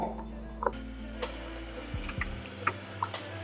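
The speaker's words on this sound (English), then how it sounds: "I'm gonna wash my hands now." Water runs from a kitchen tap as hands are washed at the sink, a steady low rush with a few soft splashes and clinks over about three seconds, fairly close, no voices.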